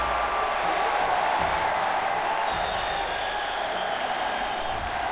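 Crowd cheering in World of Warcraft: a steady, dense wash of distant cheers and crowd noise that holds at an even level throughout, with no speech.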